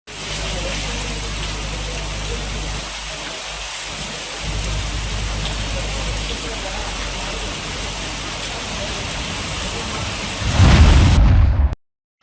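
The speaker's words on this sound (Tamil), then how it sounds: "காற்று வீச தொடங்கியதை தொடர்ந்து இடி மின்னலுடன் மழையானது புதுச்சேரி நகரம் மற்றும் கிராம பகுதியில் பெய்தது." A thunderstorm with heavy rain and wind over Puducherry: a loud, continuous roar of rain with deep rumbling underneath, swelling into a heavier burst near the end before cutting off.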